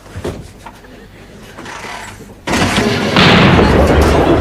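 Loud bangs from an old motorbike backfiring, a sudden blast that jumps in level and stays harsh and roaring, following quieter mixed noise.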